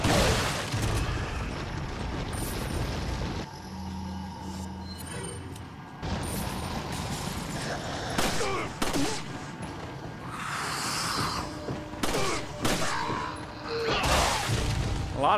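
Shotgun blasts in the survival horror game Resident Evil 4, several sharp booming shots spread across the stretch amid crashing and impact noises, with someone talking between them.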